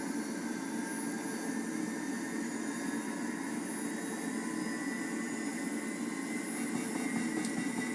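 A-10 left jet engine spooling up, heard as a steady whining drone with a constant broad rush, moderately loud and unbroken over several seconds, no talk over it.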